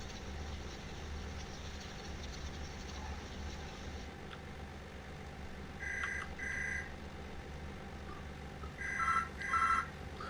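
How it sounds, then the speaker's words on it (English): A telephone rings in short double bursts, twice, under a steady engine drone from hay baling machinery, moderately loud. "the phone is busy today"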